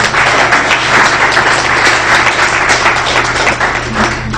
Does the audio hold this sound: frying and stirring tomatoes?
no